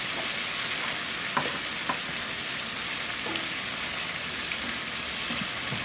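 Chicken and sausage sizzling in a pan for gumbo, a steady, even frying hiss that fills the whole stretch, with a few faint utensil taps and no talk.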